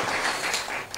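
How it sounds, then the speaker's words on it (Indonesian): A church congregation clapping together, a steady wash of many hands at moderate loudness with no voices over it. "Kasih tepuk tangan buat saudara-saudara."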